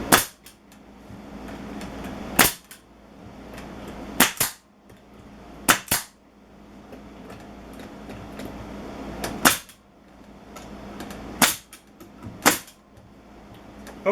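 A nail gun fires nails into a wooden planter, sharp loud cracks at irregular intervals, six or seven shots in all, with quiet handling noise between them and no speech.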